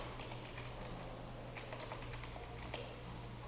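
Quick, light keystrokes on a computer keyboard typing the word "Montehermoso", a steady run of soft clicks over a constant electronic hum, ending in one slightly sharper key press.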